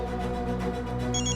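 A phone rings with an incoming call, a steady electronic ringtone with brighter trilling tones near the end, loud and continuous in an indoor scene with no talking.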